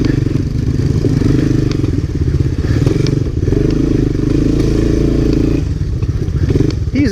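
Mid-1980s Honda ATC three-wheelers, a 1985 or 1986 Big Red and a 1985 ATC250SX, on a trail ride give a loud, continuous close engine drone with small surges, clattering and thumps over rough ground.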